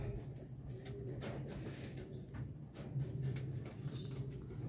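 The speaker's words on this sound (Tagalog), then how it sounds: "Mga ibon natin dito." Racing pigeons coo softly in their loft, with low, repeated throaty calls overlapping against a background of faint chirps and shuffling, close but quiet, with no talking.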